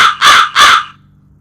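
Two loud, close crow caws in quick succession, played back from a processed crow sound file, each harsh call ringing briefly before fading into a quiet electronic hum.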